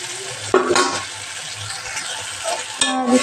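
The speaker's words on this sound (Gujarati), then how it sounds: "આપણે મસાલા પાકવા દઈએ" Spices fry in a pan for a Gujarati moong curry, sizzling steadily up close. A spoon stirs and scrapes against the pan now and then, with a couple of louder clanks.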